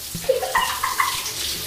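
Cold water runs weakly from a tap, a thin uneven trickle splashing close by for under two seconds, with brief ringing tones as the stream hits a basin or tub.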